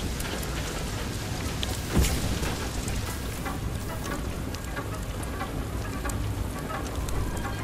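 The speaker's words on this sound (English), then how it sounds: "Oh, what kind of hail is this?" Heavy hail and rain pound down in a storm in the video game FAR: Lone Sails, a dense, constant hiss of impacts with one sharper crack near the start and no talk.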